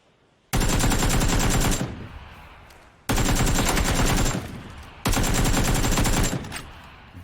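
Three long bursts of rapid automatic gunfire from the video game Battlegrounds, each starting abruptly, running about a second and a half at full loudness, then tailing off in echoing decay before the next burst.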